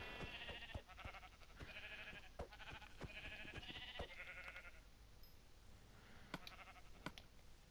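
Sheep bleat repeatedly in the video game Minecraft, several short wavering cries in quick succession, then a few sharp clicks and thumps as the bleating stops.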